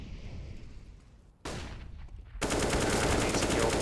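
Automatic rifle fire in CS:GO during a Mirage match between SK and Cloud9, arriving as a short burst and then a dense, loud stretch of rapid shots after a quieter opening with faint background noise.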